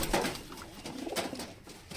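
Soft, close cooing of pigeons, low throaty calls repeating in a quiet murmur.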